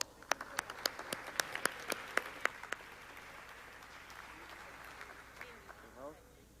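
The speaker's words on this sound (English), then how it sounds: "Please welcome them with a warm applause." Seminar audience gives applause to welcome a ministerial panel on investment in the Pacific Alliance countries, a steady burst of clapping with sharp individual claps that fades after a few seconds, followed by quiet room tone.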